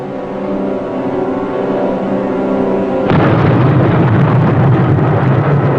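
Torpedo hits explode against an enemy ship in a submarine war drama, a low rumbling roar that swells abruptly into a louder, sustained booming wash, with no voices over it.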